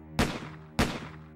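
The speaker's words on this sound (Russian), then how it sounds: "3 выстрела. Несколько секунд спустя еще 2." Two sharp gunshots ring out about half a second apart, each a loud crack with a short reverberant tail, set in a Resident Evil story.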